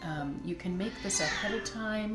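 A house cat meows repeatedly in a kitchen, several drawn-out, fairly loud calls heard beneath someone talking.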